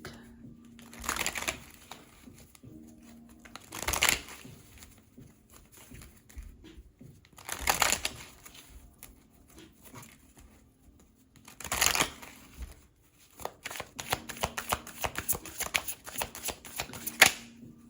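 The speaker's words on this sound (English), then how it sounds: "next I would like to get a few cards from my deck." Tarot-style cards shuffled and drawn from a deck at close range, with four or five brisk riffling bursts spaced a few seconds apart and quieter handling rustles between them, ending in a longer patter of shuffling.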